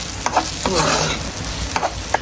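Fasting sheera roasts in a pan as a spoon stirs and scrapes it, giving rhythmic scraping strokes over a soft continuous sizzle, close and fairly loud.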